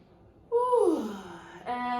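A deep, audible breath drawn in and slowly released during a beginner upper-body yoga flow, a single smooth sighing exhale that tails off, followed by a brief voiced tone.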